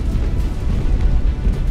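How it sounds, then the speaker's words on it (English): Heavy naval cannon fire in the age-of-sail warship game Naval Action: a loud, continuous low rumble of overlapping booms with no clear gaps, and no voices over it. "I'm dead, big cannons!"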